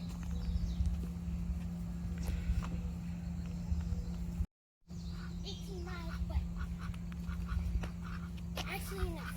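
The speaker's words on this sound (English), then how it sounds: "And there are those geese." Geese honk in short scattered calls from a distance at a riverside park in southern Utah, heard under a steady outdoor hum while someone talks nearby.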